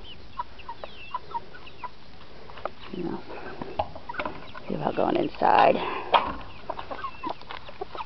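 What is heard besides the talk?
chickens clucking in a chicken pen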